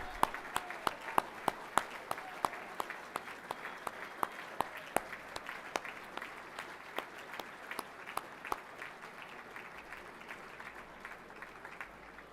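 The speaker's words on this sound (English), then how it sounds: "And a big round of applause." Guests at a premiership reunion luncheon give a round of applause while standing, a steady crowd patter with distinct loud individual claps near the microphone punctuating it, gradually thinning toward the end.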